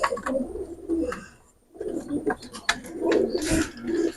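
A pair of young Saki Teddy pigeon chicks coo softly and repeatedly at close range, with a short quiet pause partway through and no one talking.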